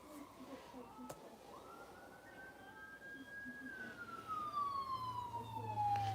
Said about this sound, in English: I keep hearing these ambulance outside.